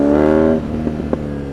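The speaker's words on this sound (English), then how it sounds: "The exhaust sounds great. It's different from anything else you ever hear." A BMW R nineT motorcycle's exhaust, a steady, loud harmonic engine note that breaks off into a few sharp pops and crackles as the rider rolls on the throttle.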